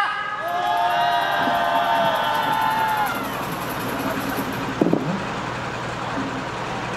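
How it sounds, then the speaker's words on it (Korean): A crowd cheers at an outdoor candlelight protest rally in Incheon, a sustained roar of shouting voices that settles into a broad crowd murmur, with a brief knock near the end. "힘찬 함성으로 모시겠습니다."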